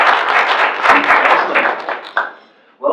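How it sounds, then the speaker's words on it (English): Close, loud applause and clapping from a breakfast meeting audience, a dense patter of many hands lasting a few seconds, with a brief voice near the end. "Give yourselves a round of applause for everyone."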